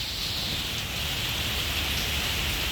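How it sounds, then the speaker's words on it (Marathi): Heavy rain pours down steadily at Palawan Greens in Singapore, a dense, even hiss of drops beating on surfaces, loud and unbroken throughout with no voices. "अरे यार पाऊस का पडला आज"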